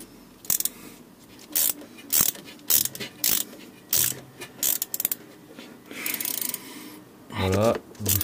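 Ratchet wrench tightening a starter motor bolt on a Citroën C3 1.4 HDi, heard as repeated short bursts of clicking strokes, close and fairly loud, with brief pauses between bursts.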